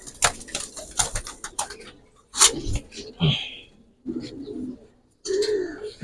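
Racing pigeons coo in a loft in short soft bursts, close by, with people talking over and between the calls and brief handling noises.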